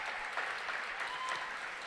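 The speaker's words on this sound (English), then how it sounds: "You can clap for that." An audience at a film prize awards ceremony applauds, a dense, even wash of clapping that holds steady from start to finish at a moderate distance.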